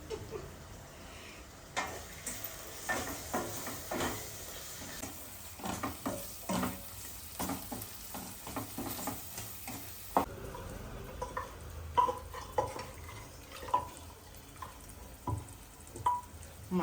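Mutton with chili powder frying for gongura mutton, stirred in the pan: a steady sizzle runs throughout, broken by repeated scraping and clicking strokes of a spoon against the pan.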